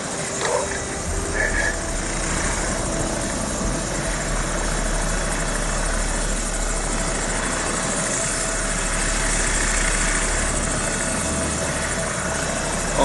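A helicopter circles in the video game Modern Warfare 2, its steady rotor thump and engine drone loud and continuous throughout, with no talking over it.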